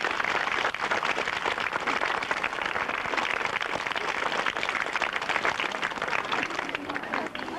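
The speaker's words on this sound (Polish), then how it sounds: "wielkie brawa dyrektorowi Godlewskiemu i Marianowi Podlewskiemu" A crowd claps steadily and loudly for the directors at an outdoor May holiday gathering for children from orphanages, near Ełk in 1993, a dense continuous applause with no talk over it.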